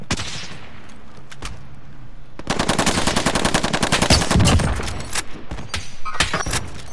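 Rapid bursts of automatic gunfire from the video game Warzone, with sharp repeated shots building into a dense, loud volley in the middle and tapering into scattered bursts.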